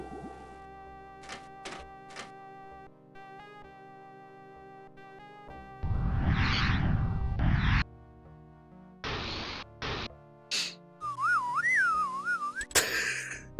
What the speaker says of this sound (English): Slide whistle